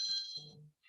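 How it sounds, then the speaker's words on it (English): Mobile phone ringtone chiming in bright high tones for under a second, then a brief lower tone before cutting off, faint and heard alone. "I apologize, that was my phone."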